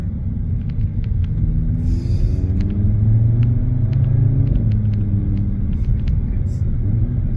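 A new car's engine rumbles loud and close as it pulls away and accelerates, a steady low drone with a faint rising pitch and a few light clicks.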